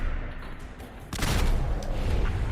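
Gunfire in the video game Fallout 4 erupts as a loud burst of rapid shots and booms after a quieter lead-in, continuing densely to the end.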